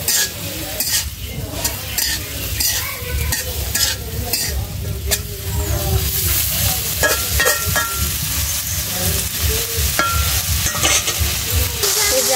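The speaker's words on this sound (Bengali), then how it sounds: "এবার একটা নাড়াচাড়া হবে।" Vegetables with turmeric frying in a pan, stirred continuously with a utensil scraping the metal, over a steady, close sizzle that carries on for the whole stretch.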